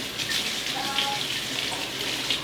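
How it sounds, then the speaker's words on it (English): A tap runs steadily over canning jar lids being rinsed at a kitchen sink, a continuous close hiss and splash of water with no talk. "2 more, we'll just wash them off real quick."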